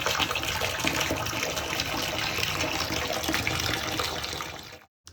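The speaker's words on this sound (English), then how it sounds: "So I'm going to run a bath and take a nice long warm bath." Water runs from a bathroom tap into a bathtub being filled for a warm bath, a loud, steady rushing gush that holds for about five seconds and then cuts off abruptly.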